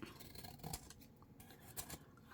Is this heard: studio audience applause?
no